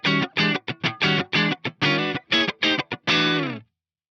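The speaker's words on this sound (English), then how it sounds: "this is a YJM Strat going into the Blues Junior model" A YJM Strat on the neck pickup played through a Blues Junior amp model with a greenback cabinet impulse, a clean electric guitar phrase of about a dozen plucked notes ending on a held note that cuts off into silence.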